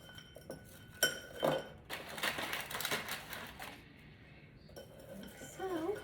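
Small items are stood up one by one in a pretty glass, making faint, scattered clinks and taps against it, with a couple of sharper knocks in a quiet room.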